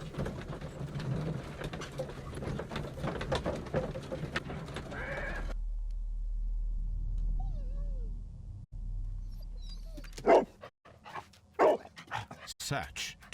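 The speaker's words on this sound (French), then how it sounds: "Le toutou." A dog barks several times in the Victorian detective game Sherlock Holmes Crimes and Punishments, short sharp barks near the end after quieter game ambience and someone talking.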